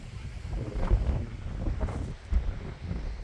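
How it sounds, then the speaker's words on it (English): Strong wind gusts across a rocky mountain peak, a steady rough rumble of buffeting microphone noise that swells and eases in irregular waves throughout, close and fairly loud. "Pretty breezy, probably gust 30 miles an hour maybe."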